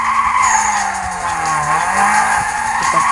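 A race car skids with a sustained tire squeal in Need For Speed Most Wanted, engine whine rising and dipping loudly throughout, game effects alone with no talk.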